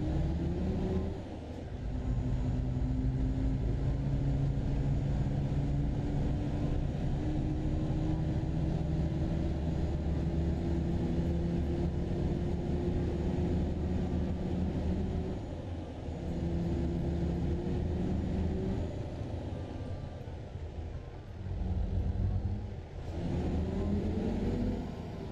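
School bus engine carrying workers to a quarry through heavy rain, a continuous low rumbling drone with revs rising and dropping as gears change, close and steady with no voices.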